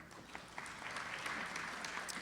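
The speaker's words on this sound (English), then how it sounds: "You're supposed to applaud there." A Rotary club audience offers a short burst of faint, scattered applause at a speech, with clapping that stays even and somewhat distant.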